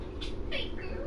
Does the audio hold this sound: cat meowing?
yes